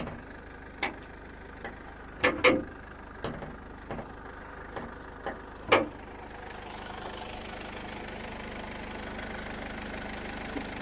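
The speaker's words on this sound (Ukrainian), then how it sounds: "Двигун працює дуже-дуже прям гарно." A Mercedes-Benz Vito 2.2 CDi van's diesel engine idles steadily at close range, a low even rumble with a few sharp clicks and taps early on, then a smoother, slightly brighter hum.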